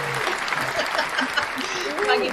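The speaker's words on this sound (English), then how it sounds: "Everybody give her a round of applause." Studio audience applauds a game show winner, steady clapping across the whole moment while voices talk and call out over it.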